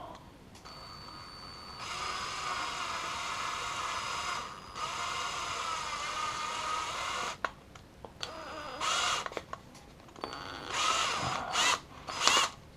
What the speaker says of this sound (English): you drill slowly down into the center of this thing